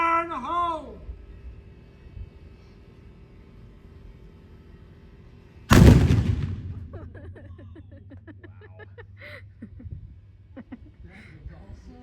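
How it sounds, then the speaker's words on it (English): A historic cannon at Fort Gaines on Dauphin Island fires a half powder charge in one loud, sharp boom that trails into a long rumble. A voice calls a warning beforehand, and quiet talk resumes as the echo fades. "That guy was nice enough to give us a demonstration of the cannon"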